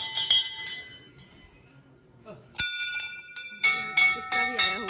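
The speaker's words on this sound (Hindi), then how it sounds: "यहाँ ढेर सारा घंटी है, वो घंटी सबको बजाते बजाते चलते हैं अंदर" Metal temple bells at a Hindu goddess shrine rung by arriving visitors, ringing out in several bright clangs with long shimmering decay, a cluster near the start and a denser run of strikes in the second half, with faint voices in the background.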